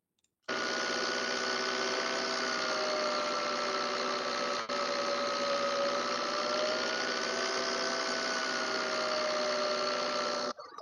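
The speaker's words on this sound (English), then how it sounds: "It's the measurement that has been taken in engine compartment of the tractor." A steady, loud engine drone with a constant mechanical hum and vibration, running continuously without a break, recorded up close inside the engine bay.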